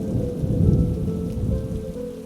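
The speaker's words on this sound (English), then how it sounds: "As he left the bar, rain started to fall." Steady heavy rain pours down with a deep rolling rumble of thunder beneath it, loud and continuous throughout, with no voices.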